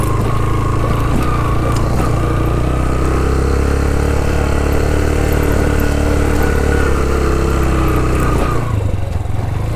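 A motorbike's engine drones steadily and loudly as it rides a rough, stony mountain road in Utror Valley near Kalam, Swat, with the sustained mid-pitched rumble changing little and no voices over it.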